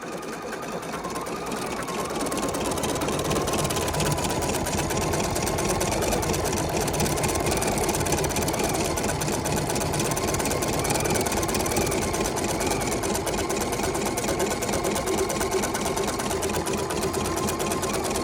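A sewing machine stitches appliqué onto fabric, running at a steady high-speed whir with a rapid mechanical chatter that starts softly and then holds loud and continuous for the rest of the stretch, with no talking.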